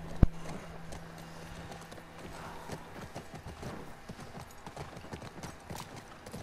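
Rhythmic clip-clop of horse hooves in the video game The Last of Us Part 2, a steady walking gait at close range, continuing evenly for several seconds.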